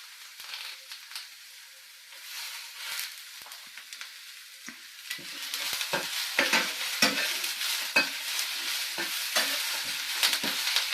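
Curry leaves and onions sizzle as they fry in hot oil for a spicy Andhra rice dish. A hiss builds steadily and grows louder and denser in the second half, broken by irregular crackles and scraping stirs.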